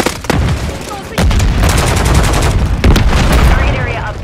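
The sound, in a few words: gunfire in Call of Duty MW3 video game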